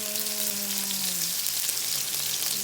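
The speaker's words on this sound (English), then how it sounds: "we'll put them to fry right now." Barracuda fish frying in hot oil in a pan, Jamaican style: a loud, steady hiss and crackle throughout, with a brief tonal whine fading early on and no voices.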